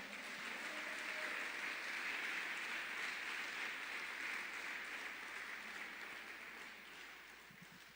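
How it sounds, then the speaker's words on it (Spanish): A church congregation applauds together, a fairly faint, even wash of clapping that holds steady for several seconds and thins out toward the end. "Le puede dar un fuerte aplauso al Señor."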